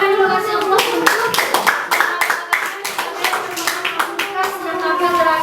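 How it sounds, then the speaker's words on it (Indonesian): Children in an Indonesian classroom burst into brisk applause, many small hands clapping in a lively, uneven patter that carries on steadily before thinning out near the end. "Kasih tepuk tangan dulu"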